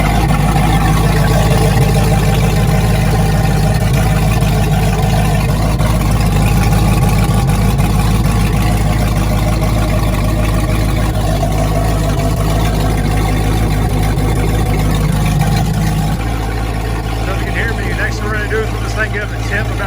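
An inboard boat engine runs steadily at idle while warming up, a loud constant low rumble with a hum that shifts slightly near the end.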